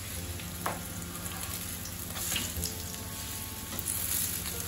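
Fishcakes fry in a hot pan with a steady, even sizzle and crackle throughout, close and continuous with no talking.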